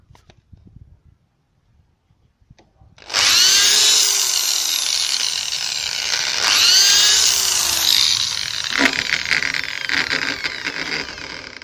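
An electric drill bores nail holes into a wooden bee frame blank, whining steadily at close range in two bursts that start after a quiet opening, then gives way to rougher grinding and rubbing against the wood.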